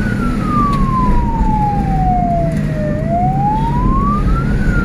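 Escort vehicle sirens wail on a road at night, a single loud tone sweeping slowly down then back up over heavy traffic rumble while clearing a path for an ambulance from Pangandaran.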